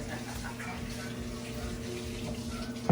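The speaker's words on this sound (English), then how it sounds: "let me wash my hands again" Tap water runs steadily while hands are washed in a kitchen, a continuous close splashing and hiss with a faint hum, ending in a brief louder splash.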